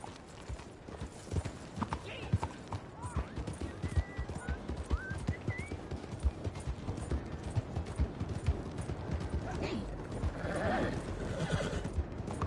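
A horse in the video game Red Dead Redemption 2 gives a rising whinny over steady clip-clopping hooves, with a voice speaking briefly at times.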